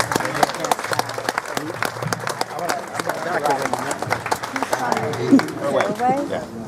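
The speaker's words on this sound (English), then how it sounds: "Give yourself a round of applause." Applause and clapping from an audience at an outdoor veterans tribute at Eldridge Park, a steady crackle of hands mixed with crowd murmur and some voices over it.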